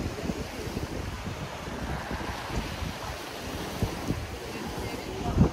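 Steady wind and Black Sea surf on the shore at Sochi in January: continuous rushing roar with wind buffeting the microphone and occasional louder wave surges, no speech audible.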